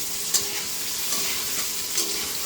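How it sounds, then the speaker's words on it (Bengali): Potatoes frying in a pan with turmeric and salt, a steady close sizzle with occasional stirring scrapes and light taps. "এবার আলুটাকে লাল লাল করে ভেজে নিই।"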